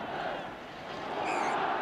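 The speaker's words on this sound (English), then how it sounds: "The Villa crowd behind that goal, hopefully cheering for a corner" Distant football crowd at the 1971 League Cup Final, a broad steady roar that swells slightly toward the end, with Villa supporters massed behind the goal.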